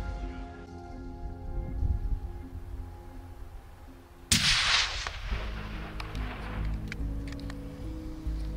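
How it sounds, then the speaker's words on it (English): Rifle shot fired at a red stag about 250 yards away while deer stalking outdoors in Ireland: a single sharp, loud crack followed by a rolling echo that fades over a second or so against quiet ambient background. "You hit with the first shot, thank God."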